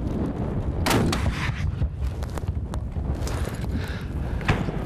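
Several sharp, heavy grenade launcher blasts boom outdoors at irregular intervals over gusty wind noise, each one a sudden cracking report that quickly fades.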